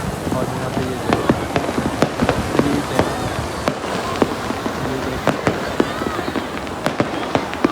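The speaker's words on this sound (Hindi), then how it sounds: "धुआँ धुआँ सा है पटाखे फूटते हैं" Firecrackers burst at a crowded New Year night celebration in Zhuhai, China, with many sharp cracks popping irregularly, some near and some distant, over a constant crowd murmur.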